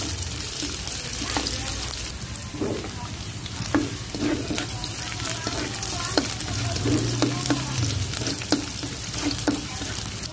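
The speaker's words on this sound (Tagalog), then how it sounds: "ilagay na din natin ito ating luyo, ating ginger. Lutuin lang natin ito sandali" Ginger sautéing in a hot pan for a sea snail dish: a steady, loud sizzle throughout, broken by sharp scraping and clinking strokes of a stirring utensil.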